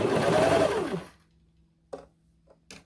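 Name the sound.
sewing machine sewing a doll leotard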